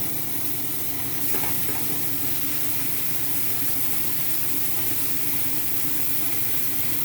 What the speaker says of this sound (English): Nice and good sizzle.